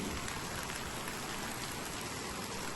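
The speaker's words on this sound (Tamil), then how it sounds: "நல்ல மழை இருட்டிட்டு இருந்தது நல்லா பெரிய மழை நல்லா ஊற்றுச்சு" Heavy rain pours down in a dense, steady, loud hiss that stays unbroken throughout, with no voices.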